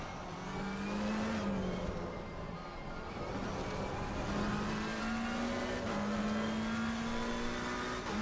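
GT race car engine at full throttle on a lap of Imola at night in Assetto Corsa Competizione, a steady loud drone with gear changes and rising pitch sweeps, no talk.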